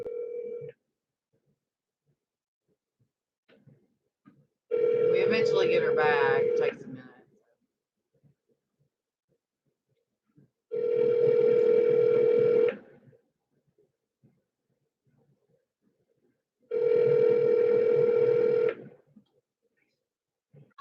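Telephone call in progress: repeated ringback tones come in three long bursts several seconds apart, clear and moderately loud, with someone speaking briefly between them.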